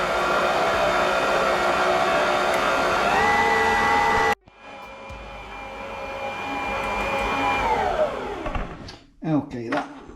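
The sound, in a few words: stand mixer kneading homemade pizza dough at medium speed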